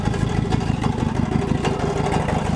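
A Toyota Corona ST141 idling with a steady, slightly rough exhaust burble, a close, continuous low throb without talk.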